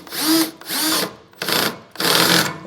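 Power drill driving self-tapping screws into an enclosed trailer while fitting an access ladder, in four loud, close whirring bursts separated by brief pauses.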